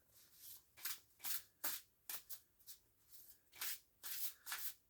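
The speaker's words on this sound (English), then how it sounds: "Let's shuffle the deck." A tarot card deck is shuffled by hand in close, quiet bursts of papery riffling and rubbing, about a dozen quick swishes with short pauses between them.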